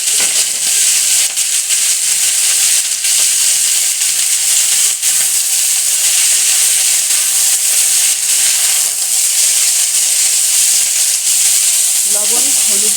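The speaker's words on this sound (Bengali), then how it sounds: "এবার বাঁধাকপিটা ছেড়ে দেবো।" Shredded cabbage dropped into hot oil already seasoned with fried garlic and dry red chillies, hissing and sizzling loudly and steadily throughout, with faint stirring scrapes near the end.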